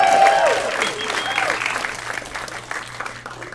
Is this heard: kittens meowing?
no